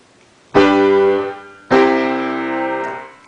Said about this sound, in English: is a dominant tonic chord progression.